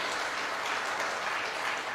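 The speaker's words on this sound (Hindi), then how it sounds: "give yourself a big big round of applause, एक जोरदार तालियां आप सभी के लिए" Sustained applause from an audience at a DXN network-marketing seminar in Nepal, a dense, continuous wash of clapping that fills the hall at a steady level with no talk over it.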